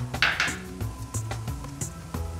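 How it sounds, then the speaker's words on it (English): Mushrooms tipped into a hot pan at Cal Pep, giving a soft run of clinks and clattering knocks against the metal, fairly quiet and close, with no talking. "I'm going to put the mushrooms in."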